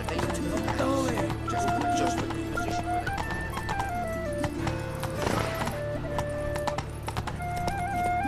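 A horse gallops in The Witcher 3: Wild Hunt, steady rapid hoofbeats with a whinny, heard under game music and voices throughout.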